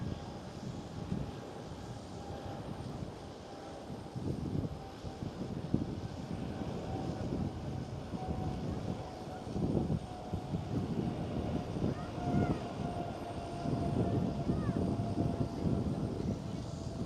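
A Qatar Cargo Boeing 777 departs Schiphol Amsterdam, its engines producing a broad, steady roar that builds gradually over the takeoff roll, heard from a distance with some wind buffeting.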